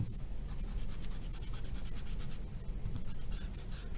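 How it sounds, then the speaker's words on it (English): Pencil lines being erased by hand with an eraser on paper, a steady close rubbing and scratching that continues without pause throughout, with no talking. "just erase away the pencil"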